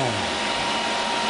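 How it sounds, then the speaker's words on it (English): Electric fan in a hot garage blowing with a steady, loud whooshing air noise throughout, brief and unbroken. "I'm turning the fan back on."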